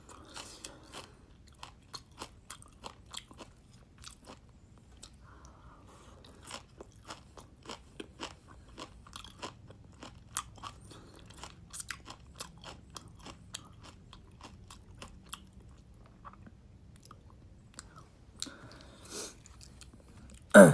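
Close crunchy chewing and biting during a dinner livestream, with steady irregular crunches and faint scraping over a long stretch, nearly alone without talk until a louder thump at the end.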